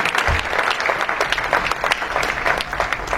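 Church congregation applauding steadily for several seconds, dense sustained clapping from a large crowd with a faint voice or two underneath.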